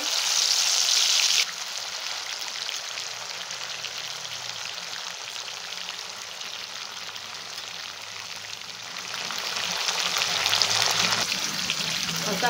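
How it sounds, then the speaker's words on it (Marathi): Cumin seeds sizzle and crackle in hot oil, a steady, close, dense frying hiss that runs throughout and swells louder toward the end, with no talk. "मी याच्यामध्ये थोडे तेल घालून घेत आहे आणि थोडंसं जिरं टाकून घेत आहे"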